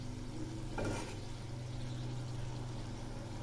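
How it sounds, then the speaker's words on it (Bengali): Fish curry masala with a little added water is stirred in a pan, a quiet sizzle and bubbling with a brief louder scrape of the spoon, steady and close against a low background hum. "আবারও একটু নেড়ে দিচ্ছি।"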